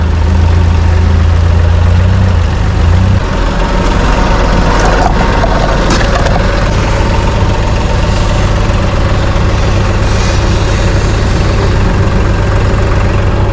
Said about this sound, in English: it's straight piped. It's got no muffler.